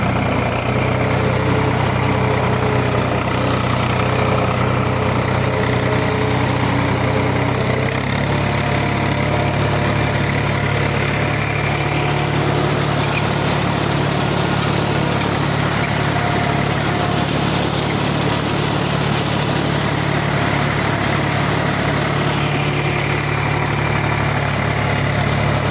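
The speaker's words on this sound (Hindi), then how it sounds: "तो दोस्तों अब जो ना मैं आपको ट्रैक्टर चला के दिखाता हूँ भाई" An Eicher 485 tractor engine runs steadily at about 1400–1500 rpm in second low gear with the lift slightly raised, a continuous loud diesel drone with deep harmonics and a slight shift in tone partway through, no talking.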